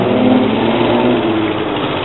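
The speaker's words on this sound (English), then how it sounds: "I'll wait for the mufflers to go by." Loud vehicle mufflers rumble past at a Daytona Beach farmers market, a steady, close engine drone that fills the whole stretch with no break.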